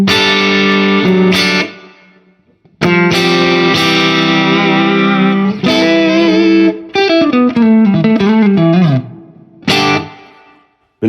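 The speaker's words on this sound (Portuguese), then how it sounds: "Um reverb mais seco, que é um plate aqui, ó." A Strymon Big Sky guitar pedal set to a dry plate reverb, heard on sustained electric guitar chords and a descending run, loud and alone, each chord ringing out into a short reverb tail.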